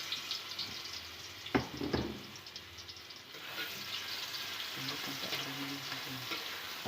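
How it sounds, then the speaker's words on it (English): Spices for fried rice sizzle and fry in a hot pan, a steady crackle with a couple of sharp clatters early on and faint clinks of stirring. "Put all the spice that you make on the frying pan."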